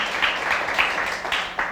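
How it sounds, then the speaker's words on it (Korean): A church congregation claps for its worship team during a Sunday service, making a brief, fairly soft patter of applause with a few sharper claps rising out of it. "그동안 수고했다고 우리 찬양팀 박수 한번 하겠습니다"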